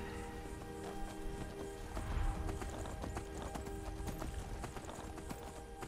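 Rapid, rhythmic hoofbeats of a galloping horse in the video game Skyrim, steady and moderately loud, with a jingling, synthetic game-like texture and no talking.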